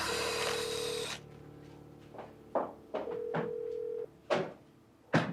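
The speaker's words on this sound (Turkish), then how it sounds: "Aç telefonu Çiçek ya." A telephone rings in a household drama scene: a steady electronic ring tone sounds twice, with sharp clicks and knocks in between, fairly close and with no voices.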